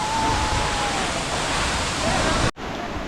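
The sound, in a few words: Vasudhara Falls waterfall, heavy water flow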